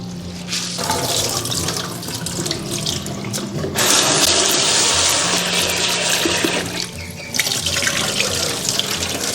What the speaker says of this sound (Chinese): 这个是我提前浸泡了半个小时的大米，我准备的是2杯的量，我们给它淘洗干净